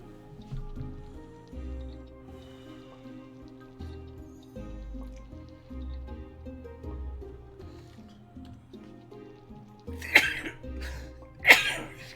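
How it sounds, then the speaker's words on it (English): A person sneezes twice in quick succession, sharp loud bursts near the end over quiet video game music from Graveyard Keeper. "Oh, the sneezes are real today."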